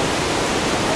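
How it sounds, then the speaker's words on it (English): Waterfall at Dwali pours with a loud, dense, unbroken roar of falling water, close and steady throughout. "This is the waterfall."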